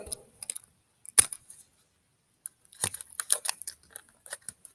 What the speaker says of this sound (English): I'm going to tape them together